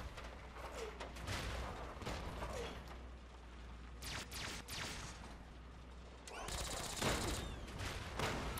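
An alien gun firing in Fallout 3, a quiet scene broken by several distinct bright zapping shots, with one loud, long burst near the end.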